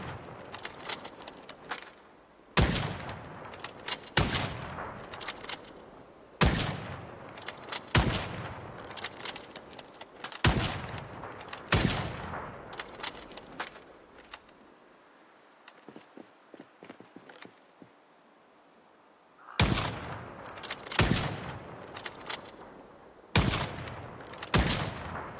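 Rifle fire from a 7.62 weapon in the survival game Project Zomboid: a long run of loud, sharp reports, some in quick clusters, each with a decaying tail, broken by a quieter pause in the middle before the shooting resumes.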